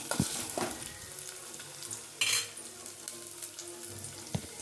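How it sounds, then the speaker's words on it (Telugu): Cumin seeds sizzle in about two spoons of hot oil while a utensil stirs them in the pan, giving a steady crackle with scraping and clinks that swell and fade, close and moderately loud. "దాంట్లోకి కొంచెం జీలకర్ర వేస్తాము. ఇది మాడిపోకుండా ఇది తిప్పుకోవాలి."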